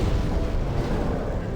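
Fiery explosions from the boss Flamelurker in the video game Demon's Souls, a continuous heavy low rumbling blast that stays loud and dense throughout without any clear breaks.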